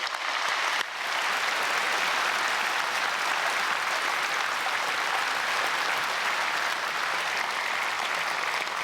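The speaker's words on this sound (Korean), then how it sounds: "우리 다 함께 박수로 축복하겠습니다" A large church congregation at Myungsung Church's special dawn service applauds in a broad, sustained roar of clapping that holds steady and even for nearly nine seconds.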